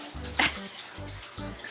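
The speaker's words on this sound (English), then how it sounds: "Now he's just having fun splashing around in the water." A baby splashes in a small baby bathtub during bath time, with a few short bursts of splashing water and a sharp louder splash near the start, set against steady bathroom background noise.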